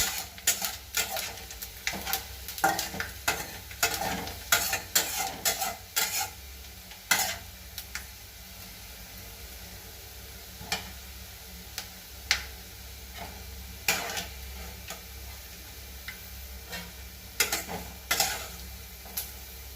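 Grated coconut is stirred and roasted in a pan for kadala curry, with a soft sizzle underneath and irregular scraping, tapping strokes of a spoon against the pan, some in quick bursts and others spaced several seconds apart.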